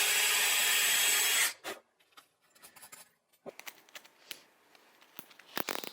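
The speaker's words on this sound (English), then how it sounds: "then I'll drill the pilot hole" Power drill boring a pilot hole into wood, a loud steady whir for about a second and a half that stops abruptly, followed by quiet scattered clicks and handling knocks.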